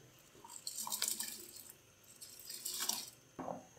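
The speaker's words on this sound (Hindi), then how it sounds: "पानी बॉयल हो गया। अब इसमें हम चावल डाल देंगे।" Rice poured into boiling salted water in a cooking pot on a high flame, giving soft hissing, pouring and splashing bursts in a couple of waves, quiet and close, without talking.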